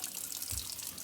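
Tap water runs steadily into a kitchen sink as cooked bacon is rinsed and cooled for goulash, a constant hissing splash with no voices.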